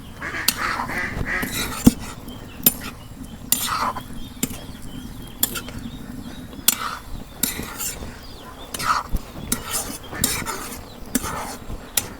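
A utensil scraping and clinking in a pan while vegetable curry with brinjal, fresh okra and fish broth is stir-fried, with irregular sharp taps over a low steady sizzle.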